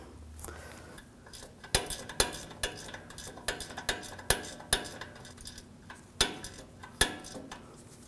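A nut being tightened on the ball joint of a 2006-2009 Audi S4 Convertible front lower rearward control arm, a series of sharp metallic ratchet clicks and taps at an uneven rhythm, close and fairly quiet.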